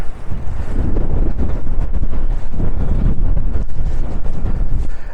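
Strong coastal wind at Ilfracombe, Devon, roaring and buffeting the microphone in a loud, continuous low rumble on a breezy clifftop.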